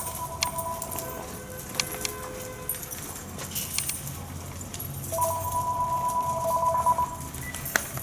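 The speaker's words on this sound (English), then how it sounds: "Sorry, got a little phone call there." A mobile phone rings with repeated electronic tones during a walk with a pack of dogs outdoors, a steady ringing pattern over faint rustling and footsteps.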